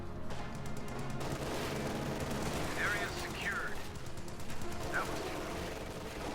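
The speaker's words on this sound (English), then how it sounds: "Squad has been suppressed by the MG42 in the church." MG42 machine gun firing from a church in the Company of Heroes 2 strategy game, a rapid rattling burst at the start followed by steady battle noise, with a commentator talking over it.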